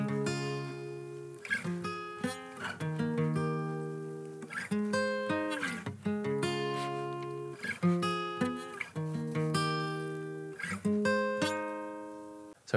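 Electric guitar strumming the repeating chord progression of a song, bright chords changing every second or so, played alone at moderate volume.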